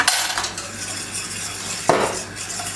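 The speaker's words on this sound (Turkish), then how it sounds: "Ve karıştırıyoruz hızlı hızlı ki topaklanma olmasın." A spoon stirs tarhana and cold water quickly in a bowl, a continuous scraping swish with one sharper clink of utensil against the dish partway through.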